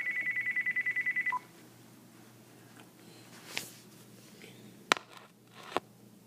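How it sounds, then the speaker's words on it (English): Telephone redialing tones: a quick train of about eleven evenly spaced beeps ending in a lower tone, followed by quiet room noise with a few faint clicks and knocks. "Oh, I gotta redial."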